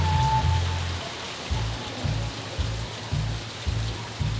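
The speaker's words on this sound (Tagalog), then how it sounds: "Ayan yung ulan sa labas, napakalakas." Heavy rain pours down outside near a Bogo City beach, a dense steady hiss with a low rumbling wash and faint pulsing gusts throughout, no voices.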